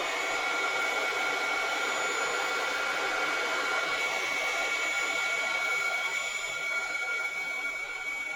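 A craft heat tool blows hot air for Easter card making with a steady, loud, high-pitched whirring drone and airy hiss that holds evenly from start to finish, close to the microphone and without speech.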